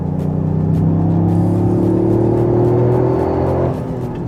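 A Toyota Yaris GR or Honda Civic Type R accelerates hard through corners, its engine holding a loud, steady droning rev that climbs slightly in pitch before easing off near the end, heard close with no talk.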